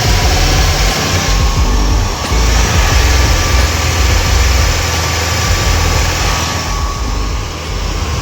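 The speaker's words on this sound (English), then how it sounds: "the car is still idling inconsistently" A Toyota car engine with a freshly repaired carburetor idles roughly and unevenly, a loud steady rumble with slight surges in level, heard up close with no talking.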